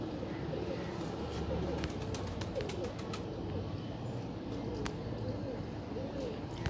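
Pigeons coo at a crowded bird market in Multan among teddy, khall, rampury and ferozi breeds. Soft, overlapping low coos run steadily beneath a busy murmur of people and distant chirps.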